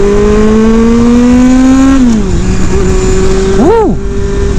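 Loud, close inline-four engine of a Yamaha FZ1 motorcycle with full exhaust, a strong harmonic drone holding a steady pitch, dropping as it shifts down, then a quick sharp rev near the end.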